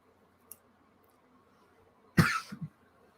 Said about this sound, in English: I hate coughing in your ear.